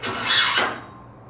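A metal boom fairlead part being sanded, one harsh, close rasping stroke that lasts under a second and then trails off into quiet.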